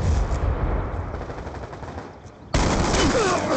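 Gunfire in a military first-person shooter game, loud continuous bursts with a sharp, louder volley of shots kicking in after a short lull, no talk.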